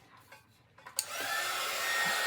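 A heat gun clicks on and blows with a steady, loud hissing roar that holds level after a few quiet handling taps.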